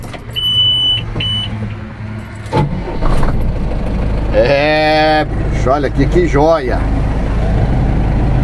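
A 2004 Agrale 7500 TCA truck's engine idles steadily with a low rumble throughout, close by, while people talk over it and a brief whine and a short beep appear near the start.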